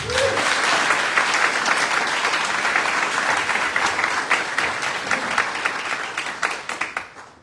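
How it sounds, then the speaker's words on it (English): An awards-ceremony audience gives a sustained round of applause, dense and even for several seconds before tapering into scattered final claps. "please give a round of applause for Sarah Ermentinger from the True Community Credit Union as our top sponsor"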